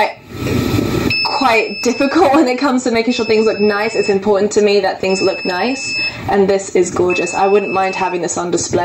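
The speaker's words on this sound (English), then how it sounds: "What you're hearing is the low temperature alarm that's going off" An iStat thermostat's low temperature alarm beeps as a steady high-pitched electronic tone sounding faintly and intermittently beneath continuous close-up speech from a man.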